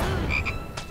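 A toad croaks in the LEGO Harry Potter Years 5-7 video game, giving a loud, close, rough croak with a couple of short pulsing calls and no talking over it.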